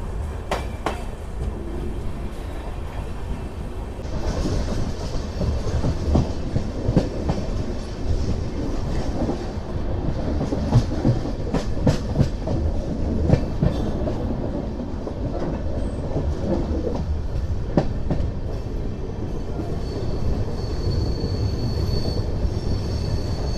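The 12731 Tirupati–Secunderabad superfast express with LHB coaches runs after leaving Gooty Junction, a loud continuous rolling roar from inside the train with repeated clickety-clack joints and occasional wheel squeal.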